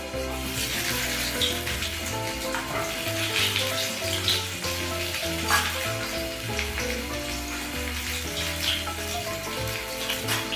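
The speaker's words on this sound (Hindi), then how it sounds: "अब हम मछली को फ्राई कर लेंगे एक बार।" Fish fries in two spoonfuls of mustard oil in a kadhai, a steady dense sizzle heard close up with no talking and a faint tonal hum running underneath.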